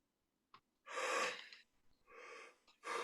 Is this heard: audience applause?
no